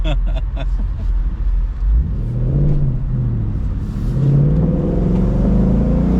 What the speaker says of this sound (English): It is a loud car.